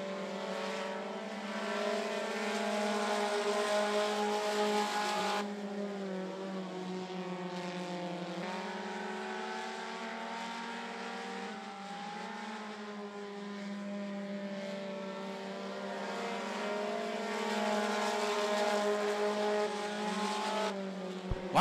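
Race cars in a Dash 4 Cash race at I-75 Raceway run down the back straightaway, giving a sustained, moderately distant engine drone whose pitch slowly rises and falls.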